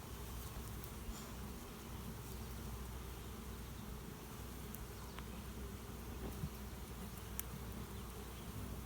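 Honeybees buzz around an open beehive in a dense, continuous low drone, fairly faint and steady, with occasional clicks and light handling noises and no speech.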